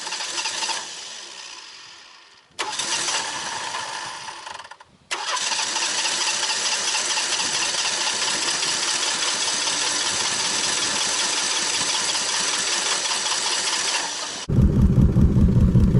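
A 1989 Ford Mustang engine cranks in two short bursts, then catches and runs steadily at a loud, rough idle, revving harder near the end.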